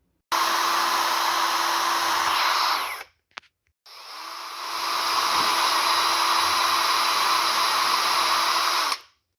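A power wire brush scrubs carbon deposits off a spark plug from a BMW E36 Compact 316i 1.9, a steady loud whirring grind lasting about three seconds, a brief pause with a click, then a second longer stretch of continuous grinding.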